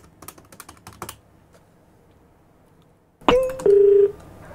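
Rapid clicking and tapping of phone keys, then a pause, followed by a few electronic telephone tones and a sustained beep, close and fairly loud.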